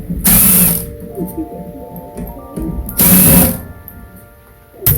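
A power screwdriver or drill whirs in two loud bursts while backing screws out of a microwave during a teardown, with quieter mechanical clicks and handling noise between them.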